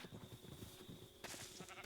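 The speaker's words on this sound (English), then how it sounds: "So I have free roaming rainbow sheep around the world" Sheep in the Minecraft video game give a soft, faint bleat or two, somewhat muffled under low background game ambience and a steady tone, with no speech.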